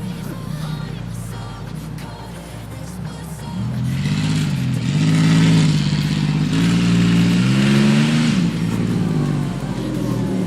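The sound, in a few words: 1990 Pontiac 6000 AWD car driving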